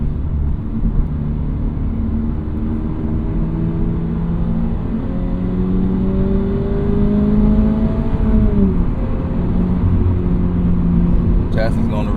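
Toyota GR86 Hakone Edition engine pulling hard under acceleration, a steady loud drone with rising harmonics that climb and then drop sharply near the end as if shifting or lifting off, continuous throughout.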